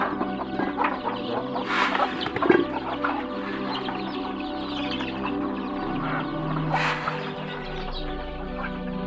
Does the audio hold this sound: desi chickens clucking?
yes